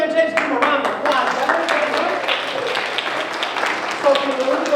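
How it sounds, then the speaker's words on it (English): An audience at a magic show in Granby, Massachusetts, claps in a steady patter of applause for several seconds, with voices and chatter mixed in over the clapping. "Give them a round of applause"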